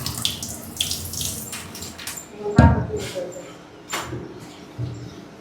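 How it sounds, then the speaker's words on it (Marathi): Water is poured out of a container into a sink-like basin at home, a short close splash and gush among quieter trickles, with people talking and birds calling faintly around it. "आता आपण हे पाणी टाकून द्यायला याच्यामध्ये."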